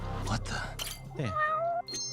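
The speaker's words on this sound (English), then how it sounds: "hear a cat over here" A cat in the video game Judgment lets out a couple of drawn-out, wavering meows, close and clear, following a stretch of voice and background noise.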